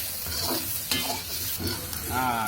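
Duck skin fries in a pan with garlic, giving a steady, close sizzle broken by scraping stirs and occasional louder crackles.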